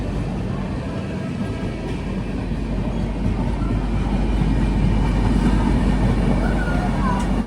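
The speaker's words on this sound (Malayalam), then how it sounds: "ഇത് ബീഹാറിലെ പട്നയിലെ ദാനാപൂരിൽ നിന്നും ബംഗളൂരുവിലേക്ക് പോകുന്ന സംഘമിത്ര എക്സ്പ്രസ്" The Sanghamitra Express, running from Danapur in Patna, Bihar, to Bengaluru, rumbles past nearby with a loud, continuous roar of wheels and carriages that holds steady throughout.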